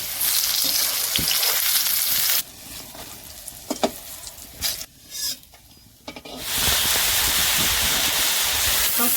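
Taro stolons browning with turmeric in hot oil in a home kitchen give a steady sizzle, which drops away midway as the pan is stirred and the stolons are lifted out, then returns loud and even.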